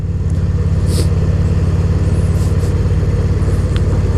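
A car cruises slowly along a country road, its engine humming in a steady, even drone from inside the cabin, with faint brief ticks and rustles over the constant low throb and no talking.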